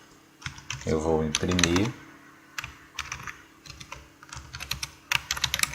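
A computer keyboard is typed on while coding in Python, with quick clusters of clicky keystrokes and a key press near the end. Someone speaks briefly over the early part.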